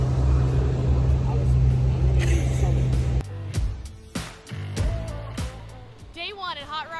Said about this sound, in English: As you can hear, they're already drag racing.